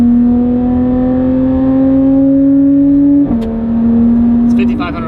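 Porsche 992 GT3 RS with a Valvetronic titanium race exhaust on stock headers revs loud and steady with a high-pitched wail, dipping briefly near the end before climbing again, with a voice talking underneath.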